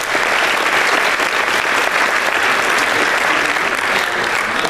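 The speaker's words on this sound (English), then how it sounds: "If everybody can give them a round of applause." Audience at a town hall meeting on homelessness applauding steadily and loudly, a dense clapping wash throughout with no speech over it.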